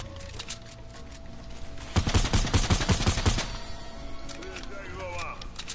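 Rapid burst of gunfire in a shooting video game, a dense run of automatic shots lasting about a second and a half amid faint game sounds.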